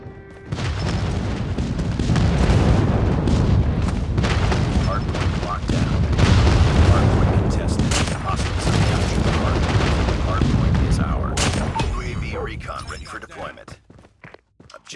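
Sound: airstrike explosions in Call of Duty Mobile video game

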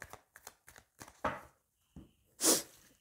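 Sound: sneeze

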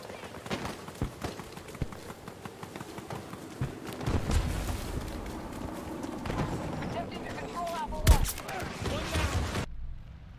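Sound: grenade explosion and gunfire in a video game

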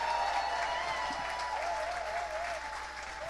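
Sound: audience applause for the new chair

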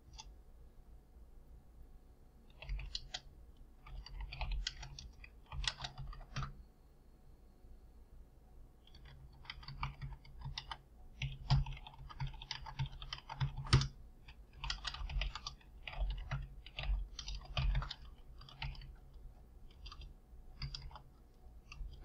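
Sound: fast typing on a computer keyboard

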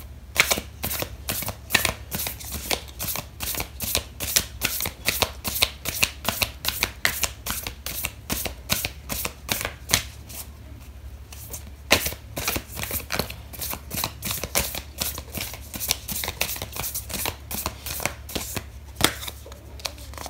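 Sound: shuffling oracle cards

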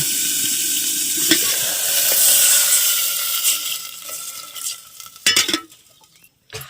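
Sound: water poured into a hot pan of tempering, sizzling

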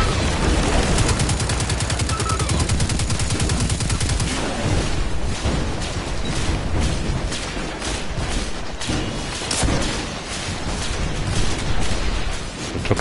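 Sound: gunfire in Destiny 2 Shadowkeep video game

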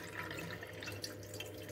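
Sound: gray rice-washing water being poured out of a pot

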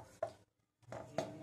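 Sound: beetroot being grated on a grater

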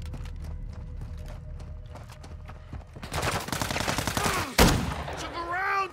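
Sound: gunfire in Call of Duty Warzone DMZ video game

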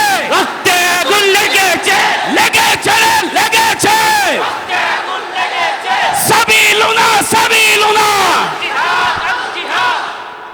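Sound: crowd shouting takbir chant at rally

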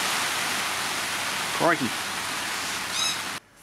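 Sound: rain falling

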